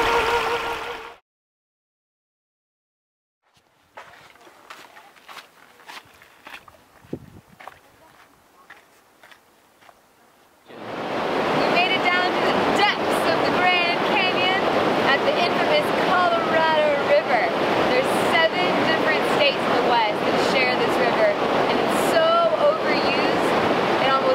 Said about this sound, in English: So we're here trekking through some water and on to the Colorado River.